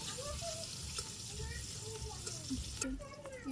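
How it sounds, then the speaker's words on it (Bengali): Chopped onion frying in hot oil after a spice tempering, cooked for a simple vegetable curry in a Bangladeshi village kitchen, gives a steady sizzle with crackles under a voice. "এই যে ফোড়ন এসে গেছে, পেঁয়াজ কুচি দিতেছি।"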